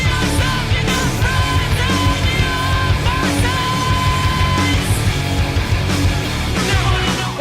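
A punk rock single plays loud and dense, with driving distorted guitars, pounding drums and sustained melodic lines throughout.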